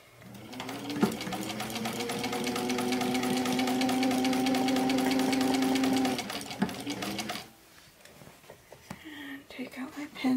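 A sewing machine runs steadily for about six seconds, stitching the seam of a homemade cloth bag, then stops; afterwards come soft handling noises and faint low talk.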